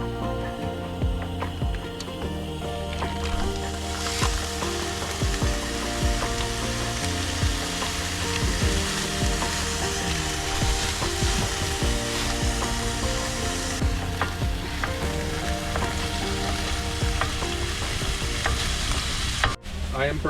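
Taco meat frying in a pan at an outdoor cooking spot beside a 4Runner on a cliff, a loud continuous sizzle with stirring scrapes over steady tonal background sounds.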